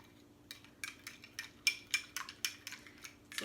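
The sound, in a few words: stirring a food colouring mixture with a utensil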